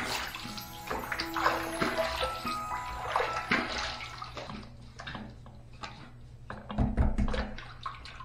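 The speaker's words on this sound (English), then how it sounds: "I'm just gonna dump it out into the sink" Water from a shave soak is dumped into a sink, producing a steady, quiet run of splashing and pouring for several seconds.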